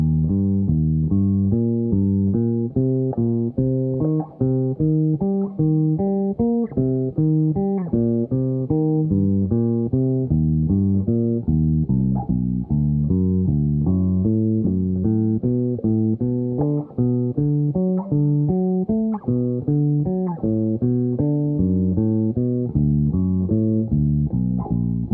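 Bass guitar plays root notes stepping down by minor seconds, a steady stream of plucked notes with a deep, muffled tone, loud and close, with no talk over it.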